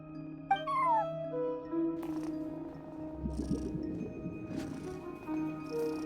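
A cat at a front desk in Genshin Impact gives a short rising meow early on, over a steady game music and ambient hum, with soft purring and faint shuffling sounds later.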